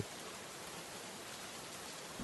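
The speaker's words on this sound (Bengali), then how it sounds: "কি যে বৃষ্টি শুরু হলো! কাল থেকে একরকম বৃষ্টি হয়েই চলেছে।" Steady, soft hiss of rain falling, a continuous even wash of sound with no voices, fairly faint throughout.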